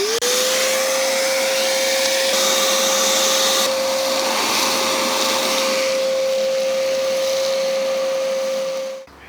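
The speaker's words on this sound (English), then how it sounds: "So I'm just going to give it a quick cleanup with the vacuum cleaner." A loud vacuum cleaner cleaning out a trench runs steadily with a high whine, close by, then cuts off abruptly at the end.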